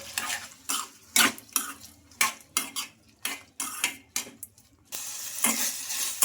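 Onion and tomato curry with curry leaves stirred in a pan, a spoon scraping and clinking against the metal in repeated strokes over a soft sizzle, close and fairly loud with no talking.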